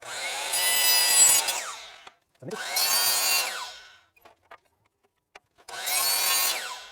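Three separate saw passes cut pine pieces to length against a stop block, each a loud, rasping cut lasting over a second, with short quiet gaps and light knocks between them.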